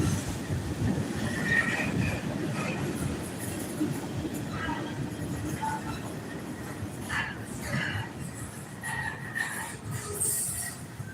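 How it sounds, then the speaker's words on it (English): Rumbling double freight train rolling past with rhythmic clatter of wheels on rails and occasional high squeals, steady and fairly close. "Got a double train,"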